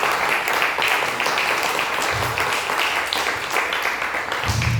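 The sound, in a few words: church congregation applauding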